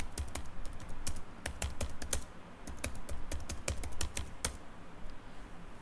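Typing on a computer keyboard while entering an install command on Ubuntu 20.04: quick, uneven clusters of close key clicks run through the whole stretch over a faint room hiss, with no speech.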